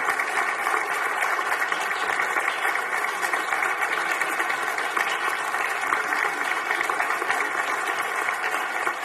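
Sustained, dense applause fills a Mexican Senate session hall in honor of Ozzy Osbourne, a steady even roar of many hands clapping at once with no pauses.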